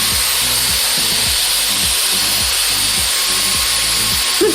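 EliteAir multi style hair dryer running on medium airflow with high heat, a steady close broadband whoosh with a faint rhythmic ticking underneath, held loud and constant throughout.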